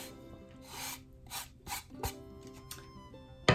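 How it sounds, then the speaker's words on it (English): Lemons being zested on a handheld microplane, close and quiet: about half a dozen quick rasping scrapes in an uneven rhythm, ending with a sharper tap. "2 large lemons, you want to zest them. So I just use my microplane."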